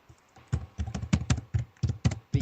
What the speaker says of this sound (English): You know you're typing.